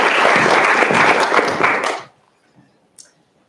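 Audience applause welcoming Dr. Julie Kenner to the stage at a TED talk, loud and dense clapping for about two seconds before cutting off abruptly, followed by quiet room tone and a single faint tap.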